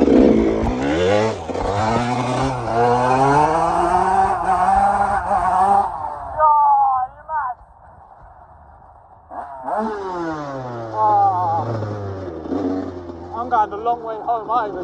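A 1999–2002 Yamaha YZ125/144 two-stroke dirt bike ridden at night, engine revving loud and close with rising and falling pitch through gear changes, easing off briefly mid-clip before accelerating again.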